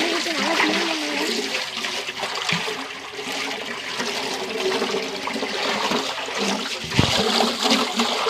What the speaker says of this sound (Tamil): தண்ணி ஊற்றி நல்லா க்ளீன் பண்ணுவேன்